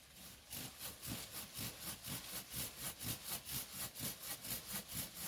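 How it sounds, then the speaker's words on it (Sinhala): A sharp garden saw cutting through a guava tree branch during pruning, with steady back-and-forth rasping strokes, about four per second, close and fairly faint, with no talking. "ඒක අපි කප්පාදු කරනවා ගාඩන් සෝ එක පාවිච්චි කරලා."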